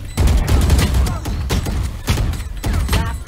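Rapid gunshots ring out in the Valorant video game during a competitive match, coming in dense bursts with short gaps, close and loud, mixed with game sounds.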